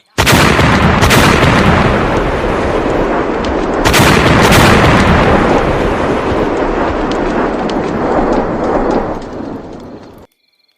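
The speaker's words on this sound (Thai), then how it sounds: "เมื่อมีเสียงระเบิดตูมสนันติดต่อกันขึ้นสามสี่ตุม และเกิดอาการไหวสะเทือนอย่างรุนแรง" A series of heavy, loud explosions, booming in rapid succession with a sharp blast near the start and another around four seconds, each followed by a long rumbling roar that fades out.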